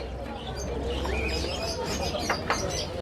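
Cooing pigeons and chirping birds at a bustling bird market fill a short stretch, several overlapping calls close by over a low crowd murmur, with a brief flutter near the end.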